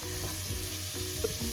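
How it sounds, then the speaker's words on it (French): Onions and leeks sauté in a pan for a ratatouille, giving a steady close sizzle and crackle with a few light spoon or pan knocks and no talking. "Là, je fais revenir les oignons et"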